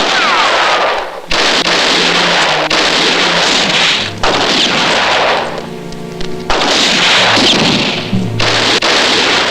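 Dense, loud gunfire fills a western film battle scene, with repeated overlapping shots and thudding blasts in several bursts, separated by brief lulls.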